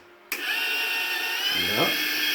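MIG welder wire feed pushing wire out through the torch nozzle, a sudden steady motor whine that keeps running with a brief rising pitch sweep near the end, close and loud.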